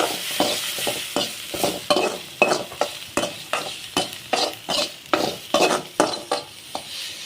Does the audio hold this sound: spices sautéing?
yes